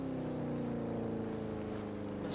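A car in a video game on the new Rondo map drives off, its engine a steady, continuous droning hum that stays fairly loud throughout without fading much; no one talks.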